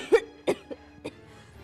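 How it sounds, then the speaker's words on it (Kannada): A girl gives four short, dry coughs in a quiet room, the first two strongest and the later ones softer. "ನಿನ್ನ ಕೆಮ್ಮು ಜಾಸ್ತಿ ಆಗ್ತಾ ಇದೆ."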